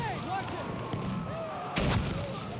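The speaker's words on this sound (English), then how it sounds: "Popping grenade!" Grenade explosion in Battlefield 1 erupts as a single broadband boom near the end of a busy stretch of battle noise, with whistling and rumble running throughout.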